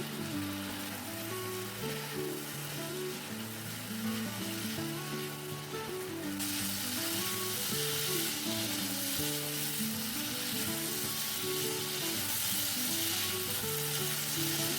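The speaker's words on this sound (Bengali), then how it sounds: "পাঁচ মিনিটের মতন মশলাটা কষিয়ে নিয়েছি এইভাবে।" Bengali spice paste with sugar added fries steadily in a pan, a continuous close sizzle with a faint underlying hum and soft stirring, the hiss growing brighter partway through.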